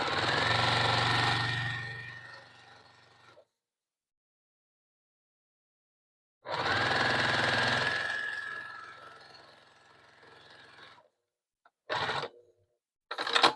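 A sewing machine stitches quilt binding on a wall hanging in two long whirring runs with a silent pause between them, then short quick bursts of stitching for a back tack, close and steady.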